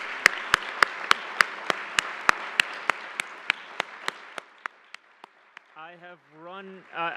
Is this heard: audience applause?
yes